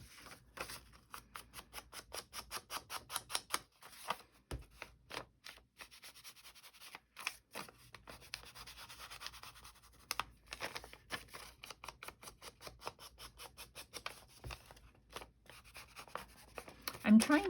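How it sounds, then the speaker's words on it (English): An ink pad or ink tool is rubbed and dabbed around the edge of pink journal paper, giving a close, quiet run of rapid scratchy strokes and taps that come and go. "I'm going to go ahead and ink around it."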